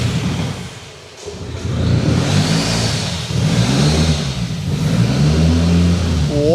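A custom-built Volkswagen hot hatch engine fires up for its first start with a fresh wiring loom. After a brief cranking dip it catches, then runs in rough, rising and falling revving surges with no one talking.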